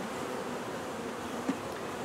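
Honey bees buzz steadily around a package of bees during installation into a hive, a continuous low drone with one brief louder pass, no talking.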